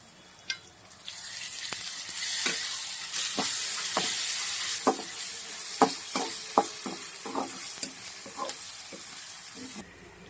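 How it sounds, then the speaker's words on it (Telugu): Ginger paste fries in oil with softened onions and turmeric, a steady close sizzle broken by repeated clacks and scrapes of a spoon stirring the pan, with no talking. "అల్లం పేస్ట్ పచ్చివాసన పోయే వరకు అయితే ఆయిల్లో ఫ్రై చేసాం కదా"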